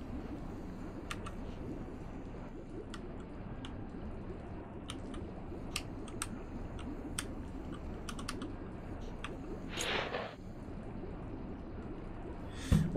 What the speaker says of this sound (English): I'm like clicking like every button